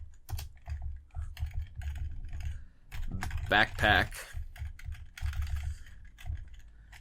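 Rapid keyboard clatter comes in bursts, close and crisp, pausing briefly while someone says a word.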